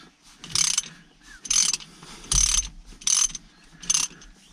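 A ratchet tightens hex bolts under a motorcycle during a quick shifter install, giving five evenly spaced bursts of crisp clicking, close and clear, with faint knocks between strokes.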